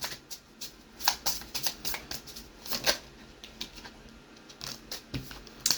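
Tarot cards are drawn from a deck with a run of soft, quick papery flicks and taps, close and quiet, coming in uneven clusters with no talking.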